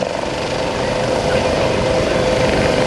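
U.S. Coast Guard Dauphin rescue helicopter, seen at a Rotorfest search and rescue demonstration, producing a loud, steady rotor and turbine drone that holds evenly throughout without breaks.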